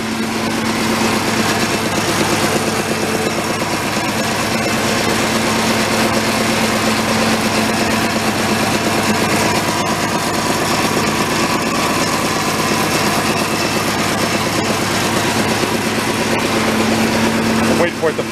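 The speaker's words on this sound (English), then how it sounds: "It's idling right now in third." An antique homemade tractor engine idles steadily in third gear, a constant mechanical drone with a low hum running unbroken close by, and voices can be heard faintly beneath it.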